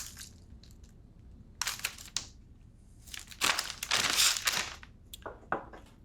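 Pears get tossed in a plastic bag with a little lemon juice and sugar, making close, bursty crinkling and rustling of the bag in several shakes separated by short quiet gaps.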